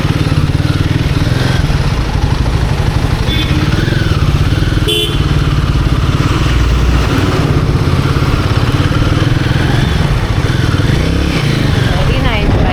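Royal Enfield Guerrilla 450 motorcycle on a two-up test ride, its engine thrumming continuously and loudly with wind noise, while riders talk intermittently over it.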